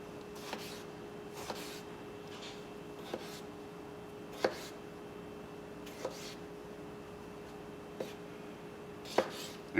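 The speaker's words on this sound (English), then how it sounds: "And then do the same thing where you chop it, boop, boop, and doop." A knife chops tomatoes on a cutting board for pico de gallo, a string of sharp, isolated taps spaced unevenly over quiet, fairly close and soft.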